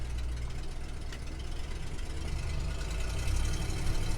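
A 1975 Ford F350 Super Camper Special truck engine runs steadily at idle, a low heavy rumble that grows slightly louder toward the end, with no talk over it.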